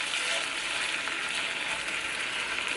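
Ribeye steak sizzling in a cast iron pan on a stovetop, a steady broadband hiss that holds evenly at moderate level throughout with no speech over it.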